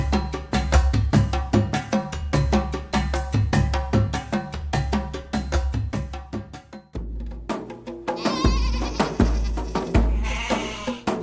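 Domesticated sheep and goats bleat repeatedly, and cowbell-like tones ring alongside them in a steady rhythmic pattern, fairly loud and close.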